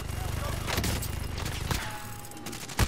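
Rapid bursts of gunfire in a squad-based shooter game, close and loud, with a rhythmic stream of shots that thins out toward the end, as a player talks over it.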